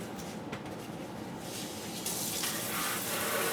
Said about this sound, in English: All right, water them again.